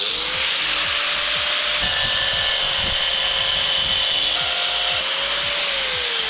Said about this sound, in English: Using my diamond grinder.